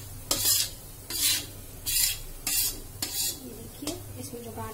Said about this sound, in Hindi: अभी मैंने आधा कप घी थोड़ा थोड़ा करके डाला है और इसको अच्छे से मिक्स करके थोड़ा और इसको सेकेंगे